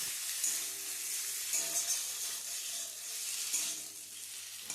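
Eggs with spices fry and sizzle in a pan with a steady close hiss, while stirring adds periodic scraping swells about every second and a half.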